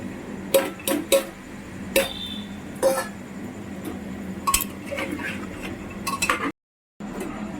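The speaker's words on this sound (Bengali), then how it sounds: "আগে থেকে ভিজিয়ে রাখা মটরগুলো এবার দিয়ে দিচ্ছি" Soaked peas go into a pan for ghugni and are stirred, bringing a few close metallic clinks and scrapes of a spoon against the pan, then a softer shuffling stretch.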